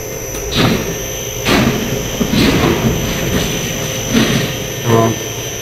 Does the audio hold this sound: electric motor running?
yes